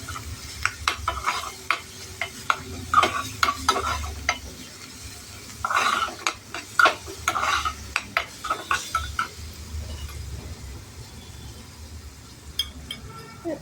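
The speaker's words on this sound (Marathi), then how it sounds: "तेलात असा तळला गेला पाहिजे" Crushed green chili thecha frying in oil in a pan, with a close sizzle under repeated spoon stirs, scrapes and metallic clinks against the pan.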